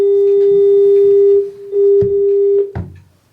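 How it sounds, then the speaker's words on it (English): A steady, pure telephone dial tone hums continuously during a selectboard meeting, briefly interrupted, with faint clicks and rustling handling noises, ending in a couple of knocks. "oh, that's a dial tone?"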